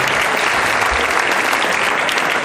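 A room full of guests at a seniors' lunch gathering applauds, a loud, close and continuous wash of clapping that holds at full strength from start to finish with no voice over it.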